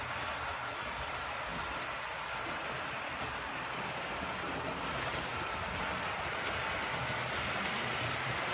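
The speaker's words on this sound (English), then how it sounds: "Yeah, it's coming on. Let's see, the train in a minute." A model railway train runs steadily on a layout with a bridge, giving a continuous low rumbling rattle that stays even and moderately quiet with no talk.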